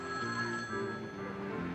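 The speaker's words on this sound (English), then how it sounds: "I think that's my phone." A telephone bell rings faintly in a room, giving a brief trilling ring that sits low in the mix with no talk over it.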